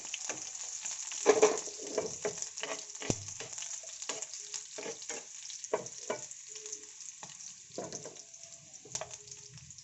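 Garlic and dried red chilies fry in hot oil for a tempering, giving a steady sizzle with scattered crackles and stirring scrapes close up, no voices.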